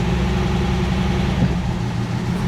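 Engine of a 1969 Mercedes car running as it drives, a steady low rumble that holds loud and close throughout, with no talking.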